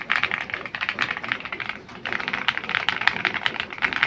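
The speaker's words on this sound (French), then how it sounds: "Quand je tape sur le QK100, c'est simple." Fast, steady typing on a QK100 mechanical keyboard, close-up, with dense clicky keystrokes forming a continuous patter, a brief pause near the middle, then more rapid keys with a few sharper clacks.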